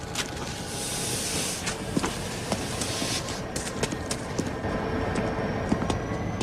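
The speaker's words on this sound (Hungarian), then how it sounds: "A New Yorki gyors vonat most érkezik a 3-as vágányra." A New York express train pulls into a station platform, heard as a steady rumbling roar with scattered metallic clanks and rattles throughout.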